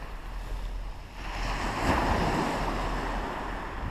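Wind and breaking surf on Shakespeare Beach at Dover, a low steady roar that swells midway, with wind buffeting the microphone and no voices.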